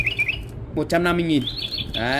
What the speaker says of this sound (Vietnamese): vừa là đựng tăm vừa là nghe chim hót luôn